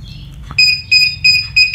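Hikvision DVR alarm beeping, loud high electronic beeps in a regular pulsing pattern, four close tones with short gaps, preceded by a faint click and low room hum.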